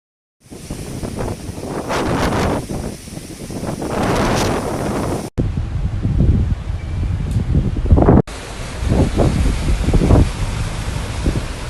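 Heavy storm wind blows hard in Bahrain as rain lashes down and trees and fences are blown over, a loud roaring buffeting against the microphone in gusts across several abrupt cuts.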